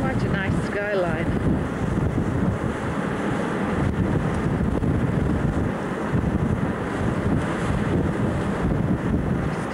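Wind gusts across the top deck of a cruise ship entering a bay off Panama, a steady loud rumbling buffet on the microphone with a brief voice near the start.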